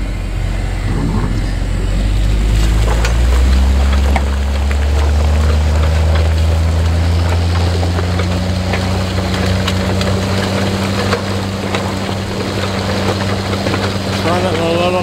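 Tractor engine drones steadily while pulling an Ortel Supply manure injector through a field, a loud continuous low rumble with shifting pitch and no speech.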